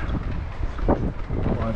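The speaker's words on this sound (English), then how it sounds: "it's very windy." Wind buffets and roars against the microphone in gusty, uneven bursts on a boat deck, with some speech mixed in underneath.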